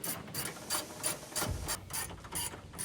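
A hand ratchet loosens a car headlight bolt in a series of about nine quick, evenly spaced clicking strokes, close and clear with no talking.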